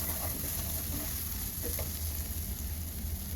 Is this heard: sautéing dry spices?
yes